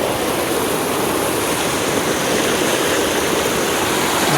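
River water pours down from above in Murree, a loud, continuous broadband rush like a stream or small waterfall, close by, with no voices.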